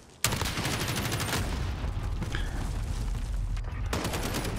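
Automatic weapon fire from a Call of Duty: Modern Warfare (2019) multiplayer match, sustained rapid bursts filling the whole stretch with a brief gap near the end, fairly loud and with no talking over it.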